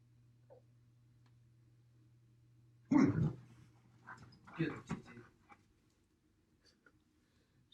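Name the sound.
dog barking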